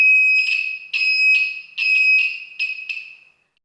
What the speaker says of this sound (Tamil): அது சூப்பராகவே பெல் அடிச்சிச்சு, அதாவது பஸர் சூப்பராக அடிச்சிச்சு.